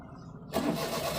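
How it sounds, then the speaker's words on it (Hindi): A car engine cranks and catches at the turn of a key, a sudden loud burst about halfway through that settles into a steady running rumble, preceded by a lower idle-like hum. "गाड़ी स्टार्ट हो गई"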